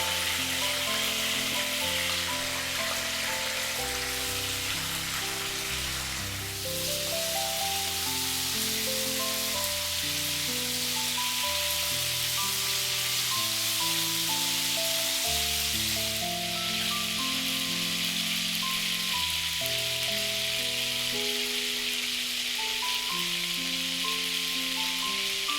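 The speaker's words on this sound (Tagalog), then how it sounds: "mag-start na tayo magprito" Chicken pieces fry in hot oil for a Filipino adobo and afritada, a continuous soft sizzle running underneath louder background music with steady melodic notes.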